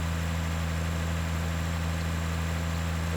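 A tractor engine idles in Farming Simulator 2013, a steady low mechanical hum with a constant pitch, close and even throughout, with no voices.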